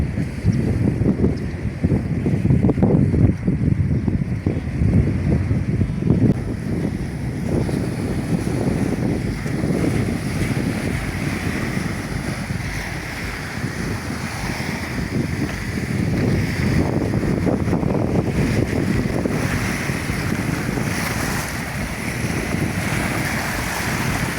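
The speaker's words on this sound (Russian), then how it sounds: "хоть и ветерочек дует такой свеженький" Steady wind blows across the open shore of Lake Baikal, mixing with a low wash of water; a continuous rushing noise without voices.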